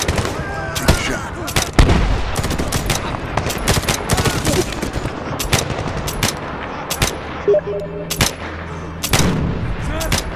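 Rapid bursts of gunfire and heavy explosions crackle through a Medal of Honor video game battle, dense and loud throughout, with short booming impacts and sustained automatic fire, and a faint rumbling tone late on.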